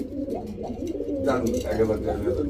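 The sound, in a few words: Indian Kaldom pigeons cooing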